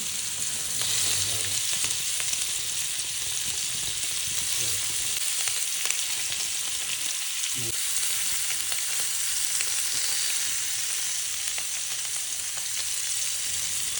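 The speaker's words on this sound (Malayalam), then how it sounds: "ഇങ്ങനെ ഓരോന്നിട്ട് നമുക്ക് ഫ്രൈ ചെയ്തെടുക്കാം" Masala-coated fish pieces sizzle loudly and continuously in a pan of oil in a home kitchen, a dense unbroken frying hiss lasting the whole stretch with a few faint clinks.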